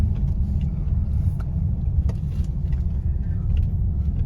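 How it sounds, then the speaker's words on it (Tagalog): Steady low rumble of car traffic on a busy road outside an SM mall during the December holiday shopping rush, continuous and fairly loud with occasional faint higher hisses of passing vehicles. "Yan traffic na yan."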